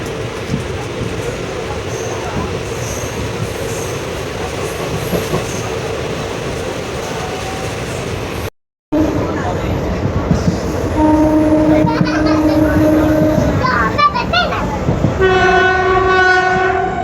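Train arriving at Podanur railway junction, a loud continuous rumble of wheels on track, followed after a brief gap by squealing wheels and repeated horn-like tones as it slows.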